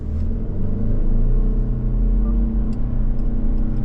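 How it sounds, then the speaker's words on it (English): Turbocharged engine of a 2024 Subaru Outback Touring XT accelerating, a loud steady in-cabin drone and rumble that holds and builds over a few seconds, with no talk. "And now we got the turbo."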